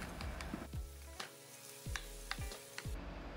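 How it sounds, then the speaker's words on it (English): Sliced onions and peppers fry in hot olive oil for vegan rasta pasta, giving a steady close sizzle with several sharp clatters of a spoon stirring against the pan. "Then we're going to go ahead and add in our sliced onions and peppers."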